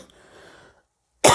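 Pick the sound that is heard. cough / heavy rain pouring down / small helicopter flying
cough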